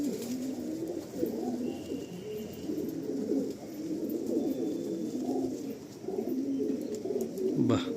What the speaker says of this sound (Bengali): এই একটা পায়রা দেখুন,